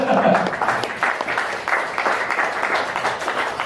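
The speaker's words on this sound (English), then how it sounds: "we can have a big applause for this" An audience at a trade seminar on a New Zealand–Korea free trade agreement claps steadily for several seconds, a dense patter of many hands in a hall, with a faint voice at the very start.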